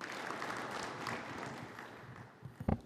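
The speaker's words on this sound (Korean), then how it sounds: "여러분 큰 박수로 맞이해 주시기 바랍니다" A forum audience in Korea claps to welcome a keynote speaker, moderate applause that gradually thins and fades, ending with a few sharp close knocks.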